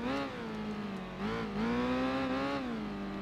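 Honda motorcycle engine in the racing game Tourist Trophy, a steady close buzzing whine that rises and dips as the throttle is worked, revving up twice in short swells, with no talk over it.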